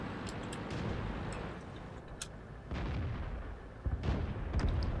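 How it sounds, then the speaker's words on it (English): Artillery shells in the World of Tanks game burst in dull booming thuds, several rumbling blasts at irregular intervals, some sounding distant and others closer and louder, over a constant rumbling backdrop without speech. "As shells explode everywhere."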